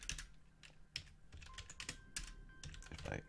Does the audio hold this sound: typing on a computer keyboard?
yes